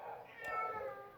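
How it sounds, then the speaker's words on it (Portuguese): A cat meows once in a drawn-out, wavering cry, fairly faint and somewhat distant, heard alone against quiet daytime background. "E tem um gato miando."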